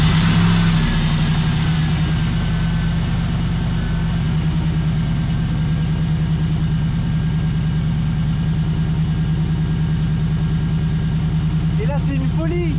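A car engine idles at a steady low rumble around 1000 rpm, loud and continuous throughout, while someone speaks over it.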